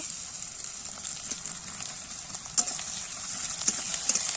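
Bay leaf and ginger frying in hot oil give a steady, fairly quiet sizzle with a few sharper pops and crackles toward the end, and no voice over it.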